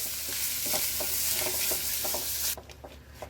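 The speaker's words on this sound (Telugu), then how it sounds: "ఇప్పుడు మరికొద్దిగా నెయ్యిని యాడ్ చేసుకుని ఇప్పుడు ఈ కొబ్బరి ముక్కల్ని వేసేసుకుందాం వీటిని కూడా మంచి ఫ్లేవర్ వచ్చేంత వరకు ఫ్రై చేసేసుకోండి" Coconut pieces fry in ghee in a kadai, a bright, dense sizzle with rhythmic stirring scrapes, then the hiss drops abruptly near the end, leaving quieter stirring.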